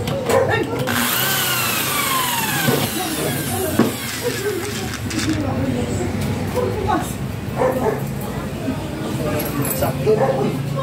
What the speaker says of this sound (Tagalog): isagad natin yung tornilyo dito sa may bandang gilid, sa iba sa ibabaw, para hindi nagagalaw